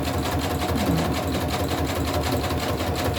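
A sewing machine runs a zigzag stitch through easily shredding velvet fabric, a steady close mechanical whir with fast regular needle ticking that continues without pause and without talk.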